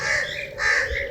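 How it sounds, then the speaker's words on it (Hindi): A crow calls from overhead on a farm where ducks roam freely, giving a couple of harsh, close caws in quick succession with no talk. "वो ऊपर कौवा आया हुआ है"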